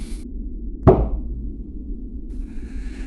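A single sharp knock on wood during a Golden Dawn initiation ritual, one close, loud strike standing alone in an otherwise quiet room.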